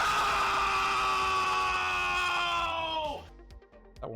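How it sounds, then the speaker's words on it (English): A long, loud, harmonic scream sound effect holds steady for about three seconds, then drops off into quieter scattered clicks and noise, with no talking over it. "That one was loud. That's a loud GD scream."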